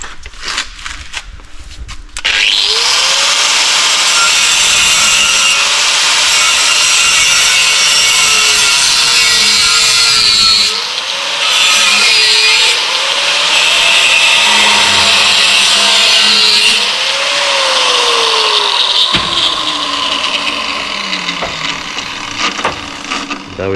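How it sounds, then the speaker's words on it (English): An angle grinder cuts steel on a tandem BMX race bike, a loud continuous high-pitched grinding whine with shifting pitch as the disc bites, running almost nonstop and close up, with no talking. "Okay, now we have the angle grinder."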